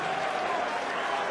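A darts crowd applauding a break of throw by Peter Wright at the 2017 Champions League of Darts, a steady wash of clapping and cheering from a large hall, with no breaks.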